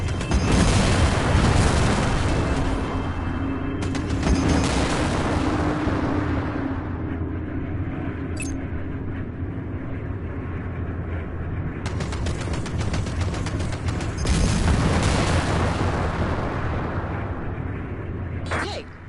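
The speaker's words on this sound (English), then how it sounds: "Bring your reticule in line with the target and fire your cannons." Rapid plasma cannon fire from a space fighter in the Strike Suit Zero space combat game, dense booming bursts and crackling shots sustained over a low engine drone, with pauses and renewed volleys.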